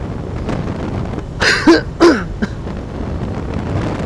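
A rider coughs twice in quick succession while riding a two-wheeler through cold wind, the short harsh bursts close to the microphone over steady wind and road rumble.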